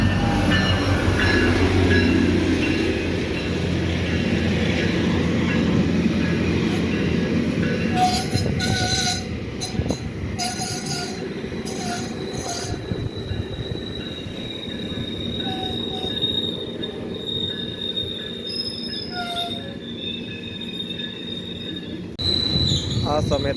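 A GO Train in Canada passes from the opposite direction, heard from aboard a train as a loud rolling rumble that fades into clattering wheels, squeals and scattered high metallic tones.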